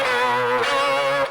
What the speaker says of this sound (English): if we turn on the phone effect and put the pedal all the way up